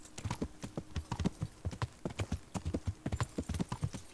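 Hooves of a ridden horse in the medieval game Kingdom Come Deliverance beat a quick, even clip-clop rhythm, moderately near, with no talk over them.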